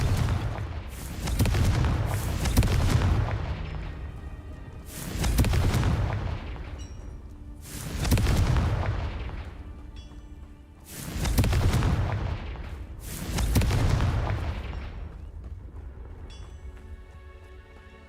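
Confringo fire spell from Hogwarts Legacy bursting five times in a row, each a loud booming blast with a crackling tail, spaced a few seconds apart with no talk.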